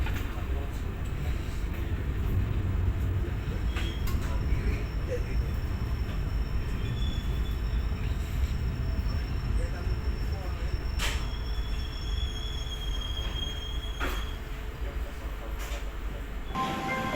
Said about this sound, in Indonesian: 7:22 tepat tiba kereta api Kamandaka tiba di stasiun Pemalang